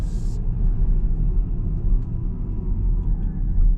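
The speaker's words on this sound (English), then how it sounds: "It sounds like a motor noise." A steady low hum and rumble of an electric car motor while driving, constant and fairly close, with no speech.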